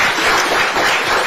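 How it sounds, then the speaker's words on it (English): Audience applauding after a president's speech, a brief dense wash of clapping from many hands, loud and steady across the whole moment. "A round of applause."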